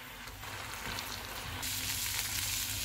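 Chicken fries in oil over a medium flame, a steady close sizzle and crackle that runs throughout and swells a little louder partway through, with no talking.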